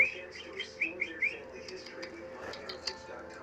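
A pet bird chirps a few short bright whistled notes near the start, close and clear, then soft scattered tweets follow under a quiet indoor background.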